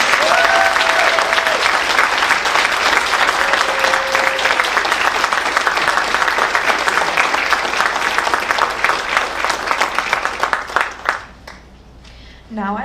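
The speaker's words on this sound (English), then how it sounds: "Can you please give a round of applause to our new inducted members?" An audience at a Junior Honor Society induction ceremony applauds the newly inducted members, sustained loud clapping from many people that runs steadily for several seconds, then fades abruptly near the end.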